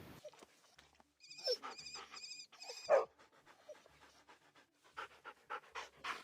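A dog panting in The Sims 4, quick soft breaths scattered through the clip, with brief chiming game tones near the start and no talk.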